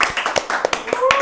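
A few people clap at a dangdut singer's interview, a short run of quick, uneven hand claps close by, mixed with talking voices.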